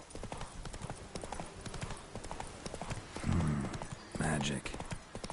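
Geralt's horse Roach trots in The Witcher 3, a rhythmic run of close hoof clip-clops with a brief whinny-like burst near the end, while someone speaks briefly.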